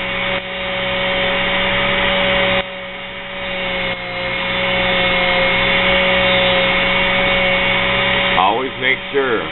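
A mini grinder fitted with a sanding disc spins steadily, giving a loud, continuous motorized whine that holds throughout and wavers briefly near the end.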